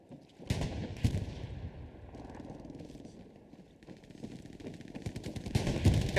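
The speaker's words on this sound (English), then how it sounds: "Got to go a little closer with your shots with the Thompson." Thompson submachine gun fire in an online multiplayer shooter match: rapid bursts of automatic gunfire crackle repeatedly, mixed with more distant shots and explosions throughout.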